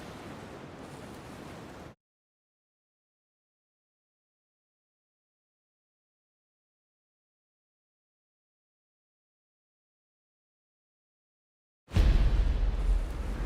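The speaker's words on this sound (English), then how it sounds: "It's too strong wind, too strong current." Strong wind gusts over the sea in a narrow fjord, with a loud rushing roar of wind and surf close to the microphone that breaks off into silence and then returns harder.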